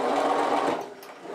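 A sewing machine runs a short back stitch on a fabric origami bag. It gives a brief close mechanical whir that eases off briefly, then picks up again, with no talking.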